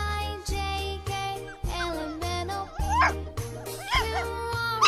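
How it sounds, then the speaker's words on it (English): A dog yips and whimpers several times over an upbeat children's phonics song, with short, high barks and whines mixed into the music. "Dog. D for dog."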